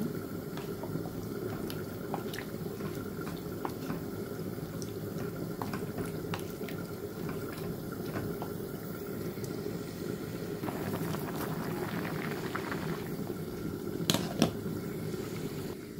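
Fish and dried fish curry simmering with water in a pot, a steady low bubbling hiss with faint ticks and a couple of light knocks near the end.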